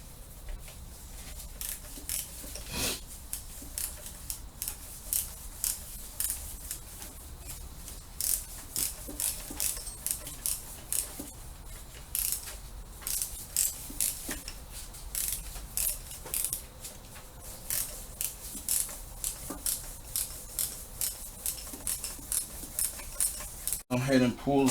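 A socket ratchet clicks rapidly and repeatedly while loosening bolts on a 2002 Suzuki Vinson 500 ATV during a rebuild, close bursts of ratcheting with brief pauses in between.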